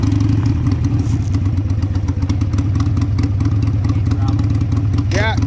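A 2002 Harley-Davidson Sportster motorcycle engine idles and runs steadily on a test run after a carburetor cleaning, a constant low rumble close by with clattering mechanical noise throughout.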